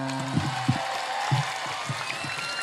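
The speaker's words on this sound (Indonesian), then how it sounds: "mana tepuk tangannya?" A crowd of thousands claps on a packed village field in Dadap, Indramayu, at an outdoor show: a continuous distant wash of applause with brief low voice bursts and shouts breaking through.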